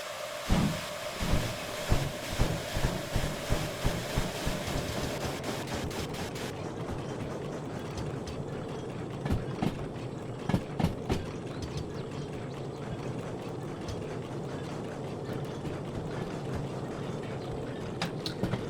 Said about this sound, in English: I'm just going to get it going at 20 kilometers an hour in reverse